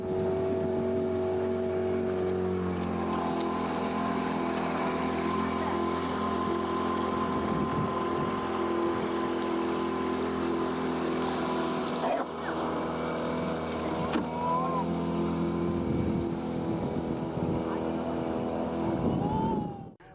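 Rescue boats work through flood waters over farmland, with a steady, loud motor drone and churning water running throughout, a few faint squeaks and clanks on top, and no talk.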